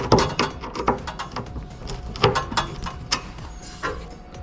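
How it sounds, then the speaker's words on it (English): A screwdriver tightens a nut and bolt from below on a Dodge Challenger ZL1 rear diffuser, making close mechanical clicks and scraping knocks in uneven bursts, with no one talking. "once you get the bolt poked through the hole, all you have to do is simply slide the nut on and then tighten with your screwdriver from the bottom"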